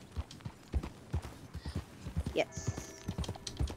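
Horse hooves clip-clopping in Red Dead Redemption 2, a quiet steady rhythmic trot of distinct close hoofbeats, with a brief whinny and people talking over it.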